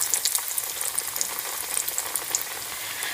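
Chilled fish pieces cook in hot oil for a homemade fish burger, giving a continuous, close crackling sizzle with fine popping bubbles throughout, steady in level and with no one talking.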